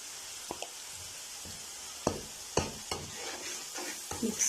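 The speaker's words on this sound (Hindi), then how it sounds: "अब इस स्टेज पर हम यहाँ डालेंगे 2 चम्मच जो है वो भरकर अदरक लहसुन का पेस्ट" Ginger garlic paste fries in oil for an egg masala curry, a quiet low sizzle punctuated by a handful of spoon knocks and scrapes against the pan, growing busier toward the end.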